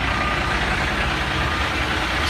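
A truck idles steadily at a house remodeling site in New Jersey, producing a constant, loud, broadband engine rumble with no breaks or voices.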